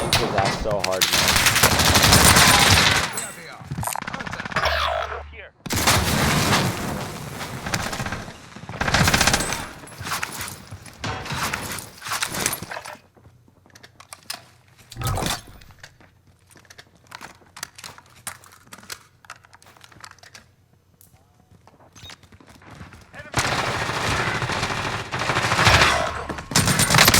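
A nail gun fires in the shooter game Call of Duty Cold War Warzone, on the Rebirth map, in rapid crackling bursts separated by quieter gaps with no gunfire.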